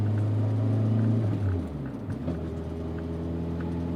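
Inside the cabin of a 1988 BMW M3 (E30), a steady low engine rumble and droning vibration fill the clip, the pitch dipping briefly midway as the engine note shifts, with no voices.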